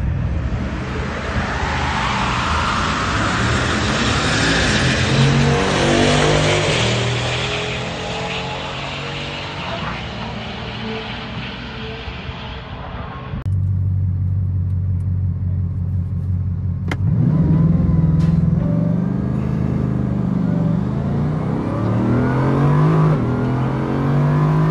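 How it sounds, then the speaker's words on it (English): Bugatti Divo launching beside a Tesla Plaid in a quarter-mile drag race, with a loud rising engine roar and gear-change sweeps that fade to a dull rumble, then a sharp cut to a steady, closer engine drone. "Although the car went into launch mode, when I went to launch it, it came off super soft."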